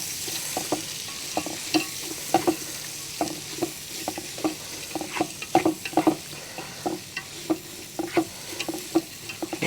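Sliced onions, about 400 grams, sizzle in a pan for butter chicken while being stirred, with a steady frying hiss and regular scraping strokes of a spoon, close and clear, no voices.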